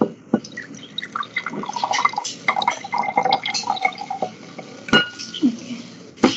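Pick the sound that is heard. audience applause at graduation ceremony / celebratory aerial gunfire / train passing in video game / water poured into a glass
water poured into a glass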